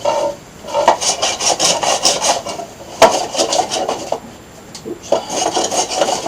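Blade shaving and rasping along a wooden bokken being hand-carved, a steady series of scraping strokes close by, with a sharp knock near the middle and a brief pause before the strokes resume; someone murmurs a short exclamation.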